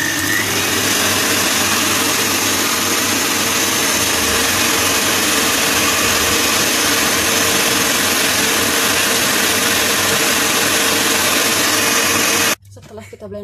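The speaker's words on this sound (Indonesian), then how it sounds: "Sekarang kita blender berasnya ya" An electric kitchen blender grinds soaked long-grain basmati rice with water, a loud, steady whirring motor hum that runs unchanged for about twelve seconds close to the listener before cutting off abruptly.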